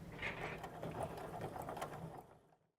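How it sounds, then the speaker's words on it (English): A sewing machine stitches a backpack strap in one short, fast, even run of needle chatter, fairly quiet and close, then stops. "now I am ready to stitch and move on to the next step"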